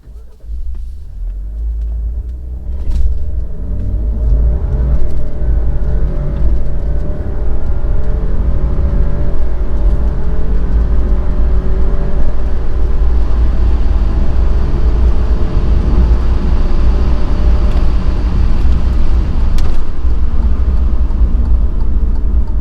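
An Alfa Romeo Giulia Ti Sport pulls hard through a 0-60 acceleration run, its engine note climbing steadily over a constant low road rumble, loud and close throughout with no talking.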